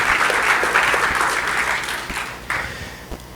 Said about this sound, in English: So please, one applause for Soundtrack Tel Aviv